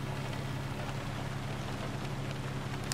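Steady rain in American Truck Simulator, a continuous broadband hiss of drops on the truck with a low engine rumble underneath, even and unbroken throughout.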